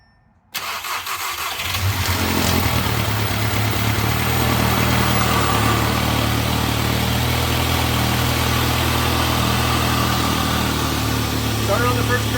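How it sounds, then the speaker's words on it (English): An Audi 8V A3 Quattro time-trial build starts on the first crank and settles into a steady, loud idle with a low rumble that holds throughout. A faint voice can be heard under the engine. "we're going to go ahead and start it up"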